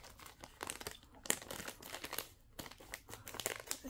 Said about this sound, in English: cut this off.